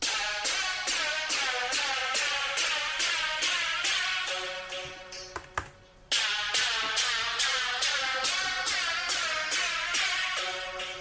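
Razor synth heavily squashed with OTT compression, a dense, bright, pulsing stream of rapid rhythmic stabs that briefly thins and glitches midway before the full pattern returns, loud and alone with no talk.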